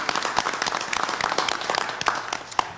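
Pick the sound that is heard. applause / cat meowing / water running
applause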